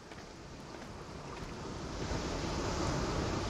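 Lake waves wash continuously in The Forest video game, a soft broadband surf that slowly swells louder toward the end, with wind-like hiss and no talking.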